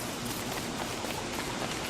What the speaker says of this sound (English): So, what happens is when it's rained, you start getting wet.